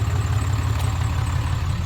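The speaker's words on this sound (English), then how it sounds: "Beautiful sounding truck, no doubt." A 2015 RAM 2500 with the 6.7 Cummins diesel idling, a steady deep rumbling throb with an even low pulse, close and loud, with no voices.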